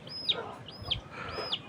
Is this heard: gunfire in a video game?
no